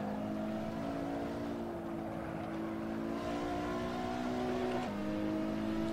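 A racing car's engine drones steadily in Assetto Corsa, a sustained mid-pitched tone that holds and shifts slightly as revs change, with a brief dip near the end, without speech.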